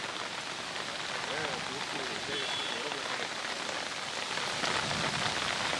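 Heavy rain driven by wind pours down steadily in Hubballi as a dense, continuous hiss that stays loud and even throughout, with no clear voices above it.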